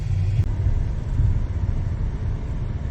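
A pickup truck hauling a loaded trailer of calves through town to the stockyards, a loud steady low engine rumble with road noise that keeps up throughout.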